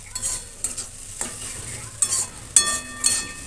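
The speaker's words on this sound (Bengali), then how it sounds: "আবারও মিশিয়ে নিচ্ছি সব ভালো করে" Spiced semolina snack mixture being stirred in a pan with a spoon, giving light scraping strokes and soft sizzling, with a few sharper clinks near the end and no talking.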